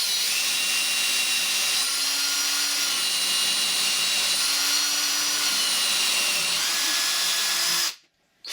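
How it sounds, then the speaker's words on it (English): An electric hand drill with a 1/4-inch bit bores through a motor assembly panel in one long, steady, loud whine lasting about eight seconds with a faint shifting tone, then cuts off abruptly; no voices. "Use the provided 1/4-inch bit to drill a hole through the motor assembly panel"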